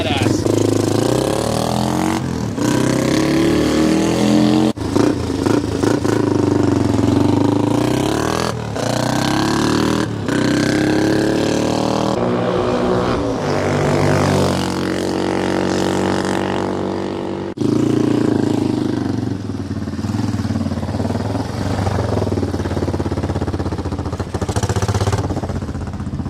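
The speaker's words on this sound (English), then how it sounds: "It's a big wheel 200, Yamaha's ATC." A Yamaha ATC Big Wheel 200 three-wheeler runs off-road over hills, streams and mud, its engine droning loud and close throughout and rising and falling in pitch as the throttle changes.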